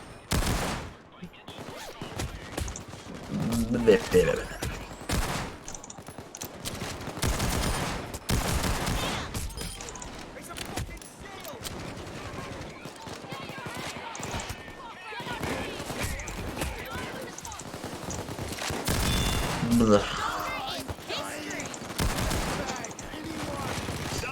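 Gunfire from a sniper and a turret in the video game Payday 2, dense repeated shots and bursts throughout a long stretch of battle, loud and close, with people talking over it.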